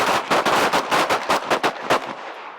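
Rapid string of pistol shots on an outdoor range during a red dot sight shooting class, about a dozen sharp cracks in quick uneven succession, loud and close with short echoes trailing each report.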